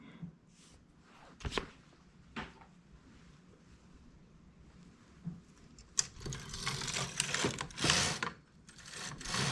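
A knitting machine seams a four-colour geometric knit piece with intermittent sharp carriage clacks and rattles, sparse at first, then a louder, busier run of passes in the second half.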